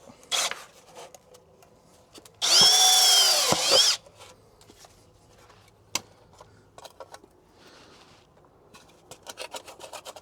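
A 20mm hole cutter on a power drill bites into the back of an outdoor wall socket box, giving one loud, harsh whine of about a second and a half amid quiet handling clicks.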